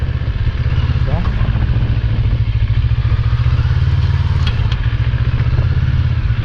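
CFMoto NK400 motorcycle riding slowly over sand and rocks on a rocky beach road in Batangas, its engine a loud, steady low drone with occasional rattling and clatter.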